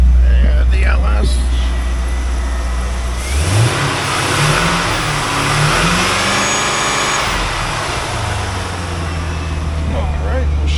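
A 1998 Chevrolet Corvette with the LS1 V8 idles with a deep, low rumble, then is revved hard several times in quick succession, each rise loud and close before dropping back toward idle.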